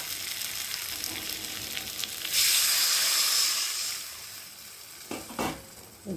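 Water poured into a pan of fried masala for bhola fish curry with potatoes gives a sudden loud hissing burst that fades into softer bubbling and stirring, with no voices.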